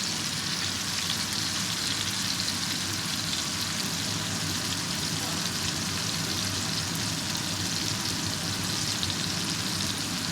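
Meatballs sizzle steadily in olive oil and butter in a hot skillet, a continuous dense frying hiss that holds loud and even throughout with no talking.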